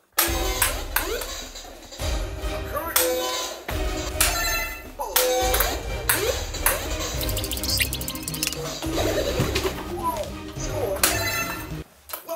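A ping pong ball is rallied against a table tennis machine, giving a string of sharp, clicking hits at an irregular pace, mixed with tonal chirps and other background sounds.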